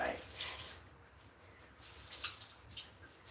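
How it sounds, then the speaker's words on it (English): Running tap water splashes close by as something is rinsed at a sink. The flow comes in short, uneven gushes, loudest at the start and fading near the end. "Let me rinse this."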